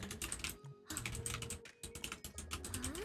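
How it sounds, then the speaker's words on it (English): Quick, uneven bursts of typing clatter on a computer keyboard close by, with brief pauses between runs of keystrokes. "I gotta do all this tippity typing."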